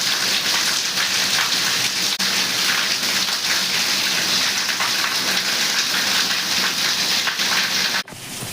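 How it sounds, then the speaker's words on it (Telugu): Heavy rain pours down steadily and loudly, a dense unbroken roar of drops on surfaces with no voices, cutting off abruptly near the end. "వర్షం చూడండి, దుమ్ము దుమ్ము వర్షం."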